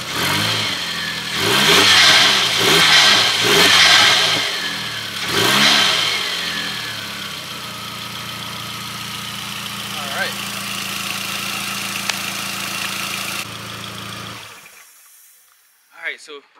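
A VW Mk4 GTI engine from a junkyard build runs after a fresh battery goes in, revving several times in quick bursts before settling into a steady idle and cutting off.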